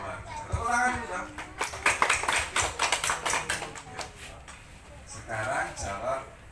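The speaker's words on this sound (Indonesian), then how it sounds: "Tepuk tangan dulu dong" Children at a Quran school clap during a magic show, a burst of rapid, loud, uneven hand claps lasting a couple of seconds, with an adult voice speaking before and after it.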